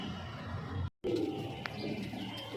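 Giribaz pigeons at a home loft give soft, low cooing calls close by. The cooing keeps on steadily with a brief break, alongside a few faint chirps, and no one speaks.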